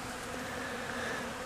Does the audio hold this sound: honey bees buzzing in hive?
yes